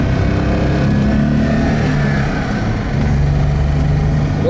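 Volvo 264 GLE with a six-cylinder engine and five-speed manual gearbox driving on a winding road, a steady loud interior drone of engine and road rumble that holds constant throughout.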